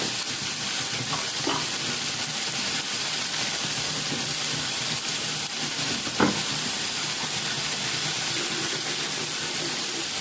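Shutki (dried fish) and eggplant with chillies frying in a pan, giving a dense, steady sizzle throughout with a few faint clinks and stirring noises.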